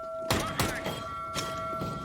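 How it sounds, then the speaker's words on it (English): A flashbang grenade being thrown in the game CS:GO, two quick sharp clicks followed by a pair of steady ringing tones, then another short impact, all brief and close. "Throwing a flashbang."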